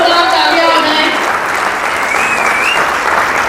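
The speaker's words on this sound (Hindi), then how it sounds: "जोरदार तालियां हो जाए।" Audience clapping loudly at a Hindi book launch event, a dense sustained roar of applause with whistled or sung tones drifting over it early on, filling the whole stretch.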